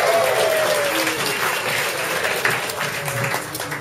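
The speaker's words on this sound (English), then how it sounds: "Come on, clap for that." A comedy club audience breaks into steady, dense applause that fills the room for several seconds at even volume, tapering slightly toward the end.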